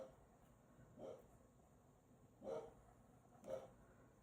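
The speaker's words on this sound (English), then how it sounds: "And you hear my dogs barking." Distant dogs bark three separate times, faint and muffled as though from outside, over a low steady room hum.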